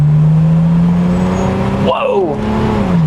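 A Mercedes inline-six car accelerating at full throttle after kicking down a gear, its engine drone loud and close and climbing steadily in pitch, with one voice briefly exclaiming.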